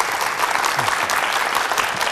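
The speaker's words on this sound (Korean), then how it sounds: "특강 힘찬 박수로 청해 듣겠습니다." A studio audience applauds a televised lecture, with dense, steady clapping from many hands that stays loud and continuous throughout.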